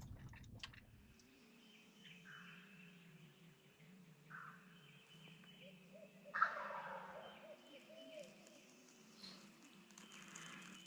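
A wild turkey gobbler on its roost about 50 yards away gives a faint, distant gobble over quiet morning woods, while other birds call softly in the background.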